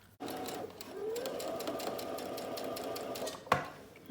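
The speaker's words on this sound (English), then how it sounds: "I'm going to ride that presser foot right on the seam, and I'll be catching that seam allowance" A sewing machine stitches a hip pocket seam with the presser foot riding along the seam allowance, running as a steady close whir for about three seconds before stopping with a sharp clunk.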